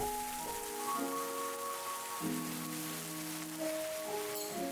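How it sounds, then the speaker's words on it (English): Sauce hitting a hot pan of fried onions, a steady close hiss of sizzling that runs continuously, with tonal music playing underneath. "Now carefully add the sauce and watch it sizzle."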